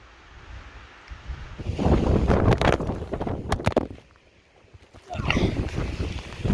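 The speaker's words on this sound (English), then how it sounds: "Pretty windy up here today." Gusty mountain wind roars across an open microphone in two strong surges, dropping briefly to a low rustle between them.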